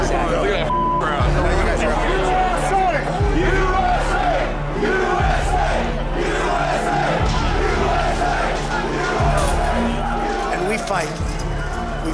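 Large crowd of protesters chanting in a steady rhythmic cadence, loud and massed, with a heavy beat repeating about every two seconds and voices talking over it.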